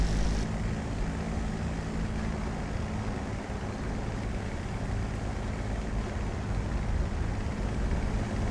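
A warbird propeller aircraft in the DCS combat flight game, coming in to land with flaps down: a steady, loud engine drone and airflow roar that holds constant throughout, with no voices.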